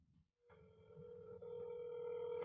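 Telephone ringing on an outgoing call: a steady electronic ring tone starts after a short silence and holds continuously, moderately loud, with a low background hum beneath it.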